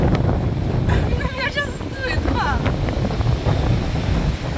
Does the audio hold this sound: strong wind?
yes